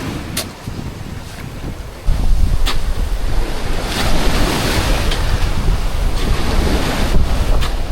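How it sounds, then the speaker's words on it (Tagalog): Ocean waves crash and wash onto a seaside shore with steady wind buffeting the microphone, a continuous loud roar that swells after the first couple of seconds. "Yung mga hampas ng alon at tunog ng hangin ay parang mga gamot na nakakawala ng stress."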